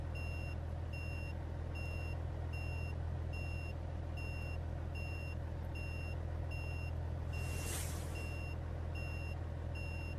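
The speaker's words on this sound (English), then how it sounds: "that indicator sound is really annoying" A Kenworth T908 B-Double in American Truck Simulator gives a regular repeating electronic turn-indicator beep, evenly spaced pulses over a steady engine drone, with a brief whoosh near the end.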